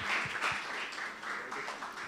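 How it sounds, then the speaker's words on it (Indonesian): An audience applauds to welcome panel speakers onto the stage at a youth panel discussion: steady, dense clapping from a roomful of people, even and sustained from start to end. "Boleh kasih tepuk tangannya meriah?"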